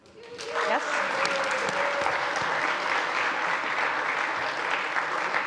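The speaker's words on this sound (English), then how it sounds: "You can clap." An audience at the Best Sommelier of the Nordics 2021 championship in Reykjavík breaks into sustained applause, with the dense clapping building quickly and holding steady to the end.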